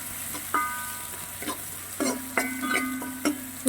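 Frying food is stirred in a pan, a steady sizzle broken by several sharp scrapes and clacks of a spoon against metal at an uneven pace, close and alone with no talk.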